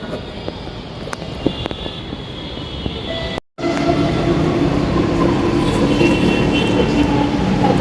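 An Indian metro train runs with a continuous loud rumble and rail noise, broken by a brief sharp dropout before the roar resumes strongly.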